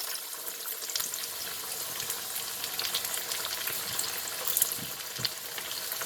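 Taco empanadillas browning in hot oil in a pan, a constant close sizzle with light spatters and a few faint utensil scrapes, steady throughout with no voices.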